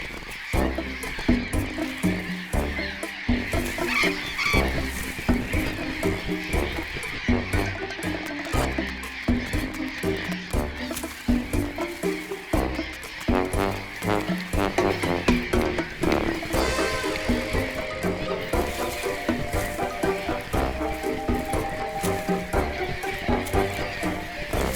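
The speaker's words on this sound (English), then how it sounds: "Burrowing parrots live together and fight together." A flock of burrowing parrots calling and squabbling: loud, harsh squawks and screeches overlap densely and continuously, close and chaotic throughout.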